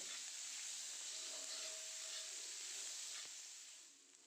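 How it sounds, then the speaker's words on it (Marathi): Chopped onion sautés in a pan for a bitter gourd dish, giving a steady, soft sizzling hiss that holds evenly and fades slightly at the end, with no voices. "छान असा कांदा परतवून घ्यायचा आहे"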